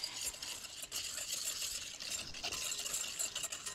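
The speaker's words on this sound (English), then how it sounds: "Give it a little whisk." Sugar whisked into simmering cream in a pan, a quick rhythmic whisking swish with faint metallic taps, soft and close, no voices.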